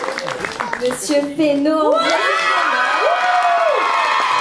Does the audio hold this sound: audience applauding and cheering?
yes